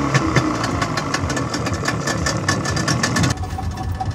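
An outboard motor drives a pirogue along the Mongala River, a loud, steady mid-pitched engine drone with a rapid knocking pulse that runs throughout and shifts slightly near the end, with no voices.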